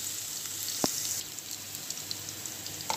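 Plenty of garlic and onion frying in a pan as they turn golden, a steady close sizzle with scattered pops and crackles and one sharp knock early on.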